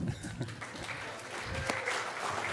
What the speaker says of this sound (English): Let the show begin with a round of applause.